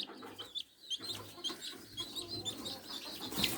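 Chickens and roosters in a farmyard coop, fed and settled, clucking and calling in short overlapping bursts at close range, with a sharper squawk near the end and no talk.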